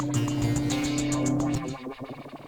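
A distorted, buzzing synth tone with a pulsing rhythm plays loudly in Ableton 11, then cuts off into a washing, echoing tail as the reverb swells.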